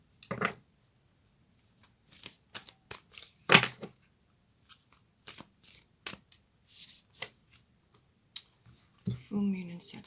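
Moonology oracle cards being shuffled and handled, giving a string of short, crisp riffles and flicks with gaps between them. Near the end comes a brief burst of louder rustling, with faint voice-like sound underneath.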